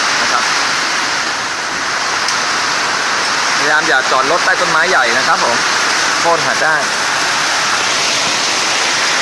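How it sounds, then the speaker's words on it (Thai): Heavy rain pours down in a hailstorm during a hot-season storm in Sakon Nakhon, Thailand, a dense steady roar close by, with someone speaking over it partway through. "เป็นพายุลูกเห็บนะครับตอนนี้ลูกเ ห็บ มีมาบ้างเล็กน้อยนะครับ"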